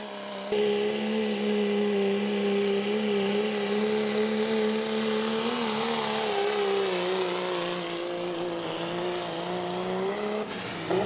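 A hot rod diesel truck's engine spools up under heavy load during a county fair sled pull, a loud sustained roar with a steady droning pitch that rises slightly and holds for about ten seconds.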